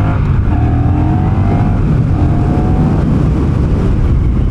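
A Honda Rebel 1100 cruiser motorcycle accelerates hard up to highway speed, its engine roaring loud and close with rising tones over heavy wind rush throughout.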